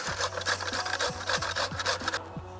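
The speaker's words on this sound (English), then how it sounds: "Then we need to grate it, so just normal box grater." Cucumber is scraped across a normal box grater in quick, regular rasping strokes, about two per second, close and crisp, stopping abruptly at the end.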